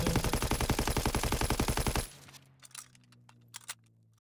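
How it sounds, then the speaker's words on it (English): Rapid automatic gunfire from a weapon in Call of Duty WW2, about two seconds of loud evenly spaced shots that stop abruptly, followed by faint clicks and clinks of spent casings. "I'm going to shoot it again to see if it does the same recoil pattern"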